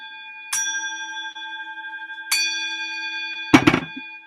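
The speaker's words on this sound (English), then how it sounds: "Y'all heard the bell." A resonant bell rings out three times with long, clear sustains, the last strike sharper and followed by a brief clatter.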